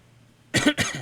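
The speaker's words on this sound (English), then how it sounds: "Just got a little bit of a cough." Two quick, harsh coughs close to the microphone, back to back after a quiet moment, heard while a War Thunder tank battle is being played.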